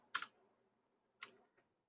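Two quick bursts of keystrokes on a computer keyboard, a brief cluster of clicks and then another about a second later, quiet and close with no talk.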